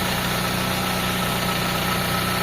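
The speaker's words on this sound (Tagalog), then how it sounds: "Yan, umaandar yung makina mga boss." A Nissan Sentra engine idles smoothly after a carburetor overhaul, producing a steady close-up rumble with a regular low pulse and a constant high whine, with no voices.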